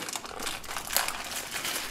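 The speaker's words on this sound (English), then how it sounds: "So you're gonna open it. You need scissors." A package is opened with scissors, giving a continuous close crinkling and rustling of plastic wrapping with one sharper snip or tear near the middle.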